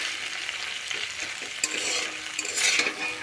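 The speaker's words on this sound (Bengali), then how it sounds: "গ্যাসের আঁচটা লো ফ্লেমে রেখে আমি এটা একটু ভেজে নিচ্ছি।" Okra and egg stirred and frying in a pan over a low gas flame, a soft continuous sizzle with light scraping of a utensil against the pan, close and alone without talk.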